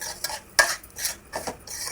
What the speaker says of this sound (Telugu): అది దారగా వేపుకోవాలి నెయ్యిలోనే వేపుకోవాలి